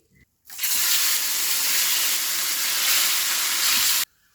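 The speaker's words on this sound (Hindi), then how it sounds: "अब मैं बाकी के मछली को भी इतना स्टेज तक फ्राई कर दूंगी" Fish fries in hot oil with a loud, dense sizzle that bursts in after a brief quiet, holds steady for several seconds, then cuts off abruptly, with no speech.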